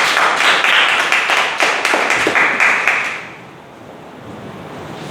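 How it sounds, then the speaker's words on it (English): An audience applauds a contestant at a Toastmasters table topic contest, with loud dense clapping for about three seconds that then fades away into quiet room noise. "Can we have a huge round of applause?"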